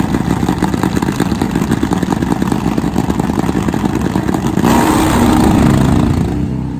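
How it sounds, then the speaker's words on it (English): A top fuel nitro Harley drag bike at drag-race qualifying roars with a loud, dense engine blast throughout, then surges into a harsher, broader burst near the end, consistent with the engine exploding. "Oh, big explosion in Mitch Brown."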